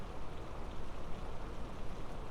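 Autumn rain falls steadily in a continuous, even patter with no pauses, soft and diffuse throughout.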